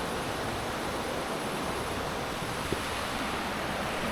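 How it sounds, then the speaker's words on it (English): Running water rushes steadily beside an overnight roadside stop on a European road trip, a loud, continuous broadband wash with no break, close by and with no voices. "I do love the sound of running water to go to sleep to"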